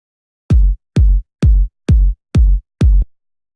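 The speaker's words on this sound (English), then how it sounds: "And there's a low-end kick, which sounds like this." Six heavy low-end kick drum hits from a layered electronic kick, deep booming thumps with a short tonal tail, played alone at a steady pace roughly every half second.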